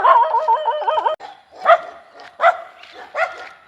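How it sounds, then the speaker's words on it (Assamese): Several dogs bark and yip in a wooded rural spot, a steady run of whining, yelping barks first, then separate sharp barks spaced about a second apart, fairly close and loud with no talk. "কুকুৰকেইটাই মোক গালি পাৰি খেদি পঠিয়ালে"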